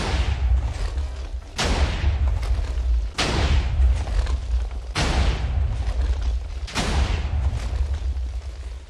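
Cannon shots in Minecraft Factions during a vault raid, booming in four or five heavy, evenly spaced blasts about every 1.7 seconds, each a loud broadband burst that decays into a dense rumble, with no talk over them.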